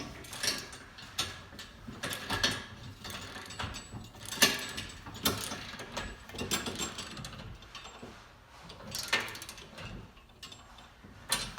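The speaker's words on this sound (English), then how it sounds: "So we can tighten up the bottom of the kipping bar." Bolts being tightened on the kipping bar of a PRx Profile rack, with repeated metallic ratchet clicks and taps coming in irregular bursts, fairly quiet and close.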